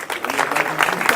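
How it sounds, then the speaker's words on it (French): An audience at a business event applauds, a short burst of full, busy clapping from many hands at close range. "Je vous demande d'applaudir."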